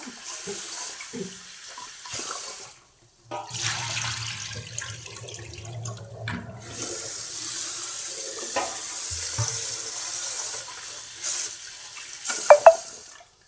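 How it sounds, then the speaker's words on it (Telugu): Rice rinsed under a running kitchen tap before going into a rice cooker, water streaming steadily for several seconds with a few quieter gaps and small splashes and knocks near the end, no voices. "రైస్ కడిగి పెట్టేసి రైస్ కుక్కర్లో పెట్టేస్తే పని అదే అవుతుంది తొందరగా"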